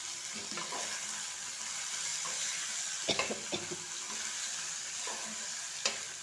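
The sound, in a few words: stirring and frying ingredients in a pan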